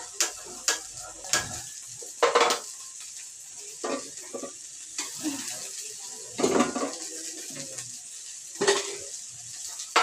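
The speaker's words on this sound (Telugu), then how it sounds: "ఇక్కడైతే తాలింపు కూడా పెట్టేస్తా." Hot oil sizzles as a tempering (talimpu) is made for dal, with a steady hiss punctuated by irregular louder bursts of spattering and occasional utensil clinks, close by and without talk.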